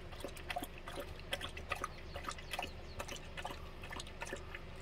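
A rural mother dog laps water, with soft, irregular wet slurping and dripping sounds close by at low volume, and no talk over them.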